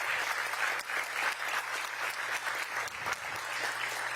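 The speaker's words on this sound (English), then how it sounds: "Give her another round of applause." Audience applause for the Teacher of the Year, Beth Barkley from Cardozo, at DC's 2024 OSSE Educator Awards ceremony: steady, dense clapping from a large crowd filling the hall at moderate level, with no voices over it.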